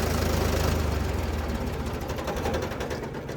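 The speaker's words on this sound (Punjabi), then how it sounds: "ਆਵਾਜ਼ ਸੁਣੋ ਬਾਈ ਟਰੈਕਟਰ ਦੀ" A Farmtrac 45 tractor engine idles steadily with a low, rhythmic chugging throb that holds even and close throughout, no voices present.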